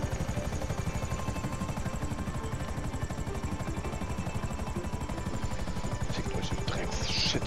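Rapid, steady rotor chopping of a helicopter in the video game GTA 5 Online fills the whole stretch at an even pace, with occasional brief clatter toward the end.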